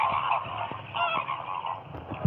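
Knob-billed (comb) ducks calling outdoors, a series of nasal, honking calls in uneven bursts at moderate distance, some overlapping, with no speech.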